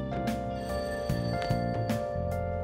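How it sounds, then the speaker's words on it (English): In the video game Persona 5 Royal, a telephone rings downstairs with a steady electronic trill, repeating in short pulses over a sustained musical backdrop. "That ringing sound isn't coming from my cell phone."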